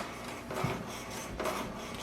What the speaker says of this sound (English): Next is to do the alignment. Click on the align, that is cartridge alignment. It will print the alignment page.